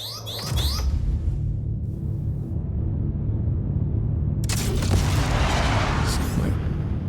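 Missiles launch from a Crusader A1 Spirit spacecraft in a video game: a sharp launch burst, then a steady low engine rumble, and a second louder whooshing blast partway through.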